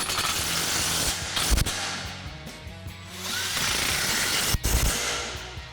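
Ratcheting and mechanical tool sounds from tightening 14 millimeter exhaust flange hardware on a Toyota Tundra Borla Touring dual exhaust install, steady close clicking with a couple of sharp knocks over background hiss.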